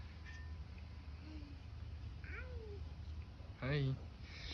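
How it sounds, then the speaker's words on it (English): A stray cat meows a few times near a small food dish, short rising cries with one louder, closer call near the end, under steady low background noise while people talk quietly nearby. "Silas, look, the kitty's eating"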